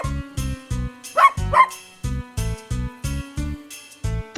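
A dog barks in a quick, regular series of short, loud, close woofs, repeated about a dozen times with a couple of higher yelps mixed in, over a steady rhythmic background beat.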